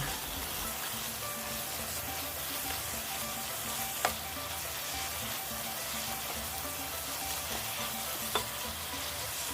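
Minced beef and holy basil leaves stir-fry in a pan with a steady close sizzle and occasional utensil scrapes, including two sharper clinks; continuous and without talk.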